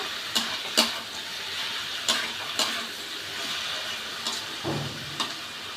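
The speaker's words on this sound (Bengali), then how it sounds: "ঢেঁড়সগুলো কেমন সেদ্ধ হয়েছে। এবার দেখে নিই ঢেঁড়সগুলো কেমন সেদ্ধ। ভাজা ভাজা করে নেব।" Steady sizzling of boiled okra frying in a pan, with a few sharp scraping and stirring clacks of a utensil against the pan.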